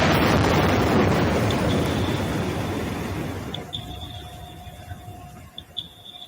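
A loud underwater boom from a seismic survey air gun fills the start with broadband rumble, then fades into a long decaying reverberation with faint tonal hums, heard from far off across the ocean.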